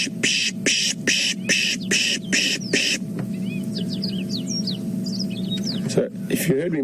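A person on an early-morning safari drive imitates a bird alarm call to draw out small birds, making a quick series of rhythmic chattering bursts and then thin, rising whistles, close and over a low engine-like hum.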